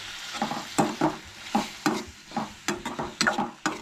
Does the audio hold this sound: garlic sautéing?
yes